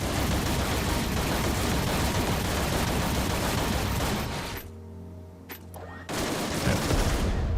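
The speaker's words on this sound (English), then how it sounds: "fire some bullets into there" Rapid sustained gunfire in the space game Everspace 2 rattles loudly for several seconds, briefly cuts to quieter tones and whooshes, then resumes.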